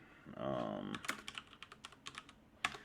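Keys on a computer keyboard are tapped in a quick, uneven burst of clicks close to the microphone, with a brief soft voice just before the typing.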